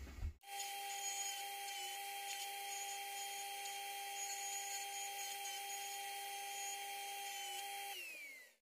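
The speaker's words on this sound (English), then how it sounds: "I'm going to move over to my other linisher here with the disc sander" A disc sander on a linisher sands a natural wood slingshot at 400 grit, a steady high motor whine with a strong tonal hum running for about eight seconds before spinning down at the end, loud and alone.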